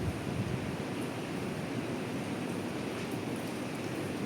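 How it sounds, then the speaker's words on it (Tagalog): Signal number 9 typhoon wind in Hong Kong, a steady broad rushing roar heard from indoors, faint and constant with no gusty breaks and no talking. "Oh my God! Lakas ng hangin guys."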